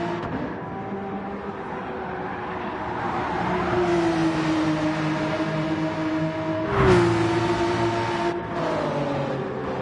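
Race cars, among them a BWT Porsche, drone through qualifying in a racing video game, a steady loud engine note rising and falling in pitch, with one brief sharp surge as a car passes close.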